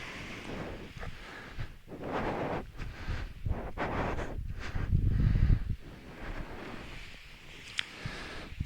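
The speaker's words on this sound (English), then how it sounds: "See what this wind is going to do." Gusty wind buffets the microphone outdoors in deep snow, a low, uneven rumble that swells and fades in quiet surges, with no voices.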